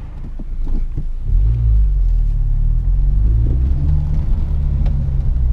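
Honda Civic Type R rolling over gravel, with a loud continuous low rumble of tyres and engine close by, swelling slightly after the first second and holding steady throughout with no talking.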